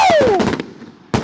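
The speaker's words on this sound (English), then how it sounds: "We still have some firecrackers going off." Fireworks going off at a 250th celebration, a rising-then-falling whistle over a quick run of loud pops, a brief lull, then another sharp burst of bangs.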